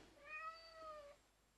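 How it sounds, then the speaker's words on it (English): A cat gives one drawn-out meow lasting about a second, quiet and close, in an otherwise still room. "crazy cat"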